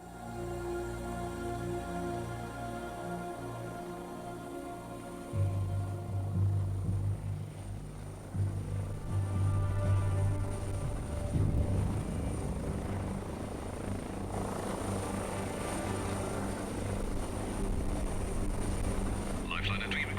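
A medical helicopter approaches to land at Radboud Hospital in the Netherlands, its rotor and engine drone loud and steady throughout, growing heavier partway through, with a radio voice speaking over it.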